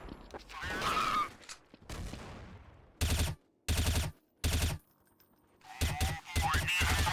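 Gunfire in Counter-Strike: Source on de_dust2, several sharp bursts of automatic fire in separate rapid volleys with short gaps, loud and close, alongside game voice lines and scattered mechanical clicks.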